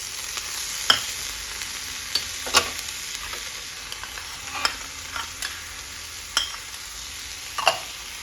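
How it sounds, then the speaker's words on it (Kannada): Capsicum and carrot being stir-fried in a pan, with a steady low sizzle. Several sharp scraping stirs land at irregular intervals over it, close and clear, and nobody speaks. "ಇಷ್ಟನ್ನು ಕೂಡ ಹಾಕ್ಕೊಂಡು ಚೆನ್ನಾಗಿ ಹುರ್ಕೋತೀನಿ"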